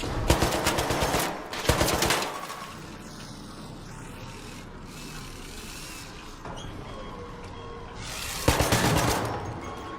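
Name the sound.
gunfire in a video game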